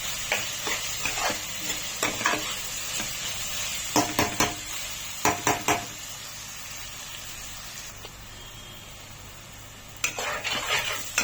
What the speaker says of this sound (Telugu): ఇలా తిప్పుతూ ఉన్నాం అప్పుడప్పుడు అంత కమ్మటి వాసన వస్తుందంటే ఉల్లిపాయలు పచ్చిమిరపకాయలు ఇంకా కరివేపాకు జీలకాయ